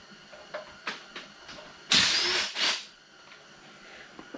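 A power tool working on the transmission mount bolts of an SRT-4 gives short whirring bursts, a couple of them louder and longer, separated by quiet pauses with light clicks.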